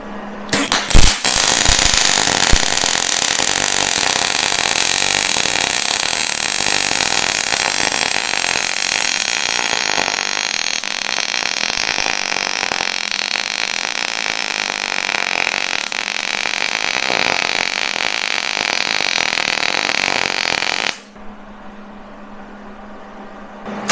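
Welding on thick metal stock produces a loud, steady, broadband crackling buzz that runs continuously for about twenty seconds close by, then cuts off abruptly into a quiet hum.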